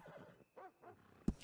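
A horse whinnies in the open-world western game Red Dead Redemption 2, a short, clear neigh that ends in a sharp thump; no talk over it.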